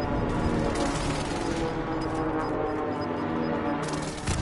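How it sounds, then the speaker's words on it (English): Video game gunfire from distant shooters aimed in the general direction of the player, a steady wash of overlapping shots and rumble with no clear individual cracks. "they're shooting just in our general direction for no reason"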